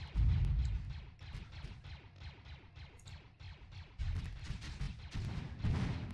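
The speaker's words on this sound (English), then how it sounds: "I can turn off the automatic shooting." Rapid automatic weapon fire in the space shooter video game Moondust (Hallo Spaceboy), a steady stream of punchy bursts at an even rhythm with deeper booms mixed in, moderately loud.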